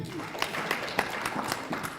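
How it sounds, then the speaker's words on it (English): A meeting audience at a regional community monitoring dialogue breaks into brief, scattered clapping, a short burst of hand claps that stays mid-distance and fairly light. "Let's clap for them."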